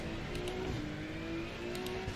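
GT2 race cars, a KTM leading an Audi, circulate at Snetterton with a steady high whirring engine drone and faint revving, heard at a distance and fairly quiet with no talk.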